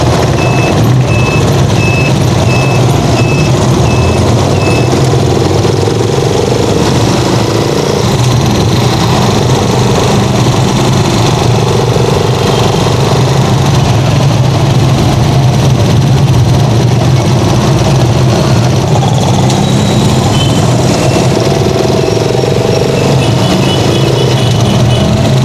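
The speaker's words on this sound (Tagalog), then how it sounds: "Daming tricycle dito." Motor tricycles crowd a busy city-centre street in Tuguegarao City, a loud, constant drone of small engines with reversing beeps sounding in bursts and other vehicles passing.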